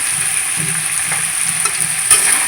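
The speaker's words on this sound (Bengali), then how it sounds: "তারপরে এইভাবে আমি অনেকক্ষণ ধরে কষিয়ে নিব" Chicken legs and liver sizzle steadily in a hot pan, with soft scraping stirs scattered through and one brief louder scrape near the end; no one speaks.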